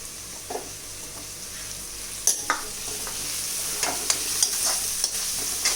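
Sweet corn goes into a hot pan of cooked vegetables and rice, giving a steady close sizzle broken by scattered scrapes and clinks of stirring.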